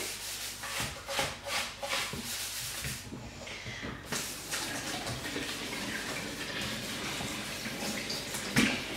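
Paint being scrubbed and rubbed off an item by hand under running water in a kitchen sink, a steady wet rubbing and splashing with faucet flow throughout, fairly close, with occasional knocks against the basin.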